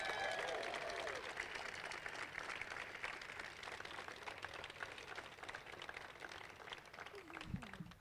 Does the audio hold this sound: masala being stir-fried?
no